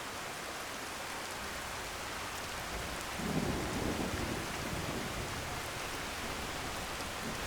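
Steady rain with low rolling thunder in the game Skyrim, a constant hiss of downpour with a deeper rumble swelling around the middle, no voices.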